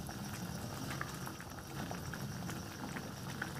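Chilli chicken sizzling over a high flame, a steady close bubbling and frying hiss with scattered pops, continuous and fairly quiet with no talking.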